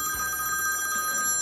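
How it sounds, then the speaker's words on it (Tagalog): A telephone bell rings steadily and clearly with a bright, sustained electronic tone throughout, close by and alone, with no voices over it. "yung telepono"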